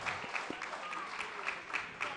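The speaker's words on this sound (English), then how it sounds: "Let's give both of these young ladies a round of applause." Faint, thin applause from a boxing event crowd after a women's bout, soft scattered clapping with a few sharper claps standing out at a distance.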